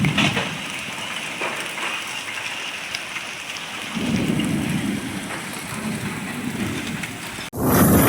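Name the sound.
heavy rain with hailstones falling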